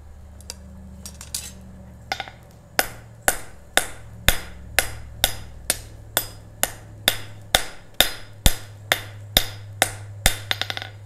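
Metal is hammered on an anvil at a blacksmith's forge: a long run of loud, ringing strikes at a steady, quick rhythm, close by, with a low hum underneath.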